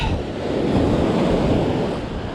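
Ocean waves break on a sandbar in the surf, a steady broadband wash with wind buffeting the microphone, loud and continuous with no voices.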